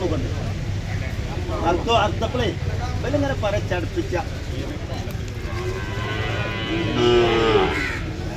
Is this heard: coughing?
no